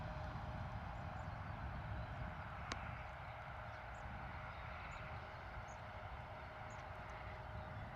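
An Embraer E175 airliner at Bristol Airport gives off a faint, steady broadband roar from a distance, with no break across the whole stretch.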